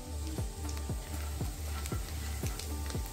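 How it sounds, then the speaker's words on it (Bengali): Ground coriander, cumin, and red chilli powders sizzle in hot oil in a pan, a steady close frying hiss broken by regular stirring scrapes roughly every half second. "এবার এই গুঁড়ো মশলাটাকে 30 সেকেন্ড মতো ভেজে নিয়ে"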